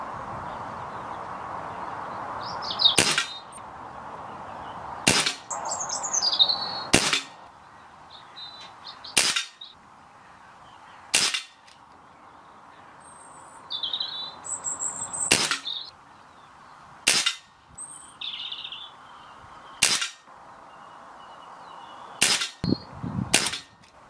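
Repeated shots from a Kral Puncher Jumbo air rifle firing light 7.33-grain pellets at targets: about ten sharp, loud cracks at irregular intervals, with fainter clicks and pellet impacts in between.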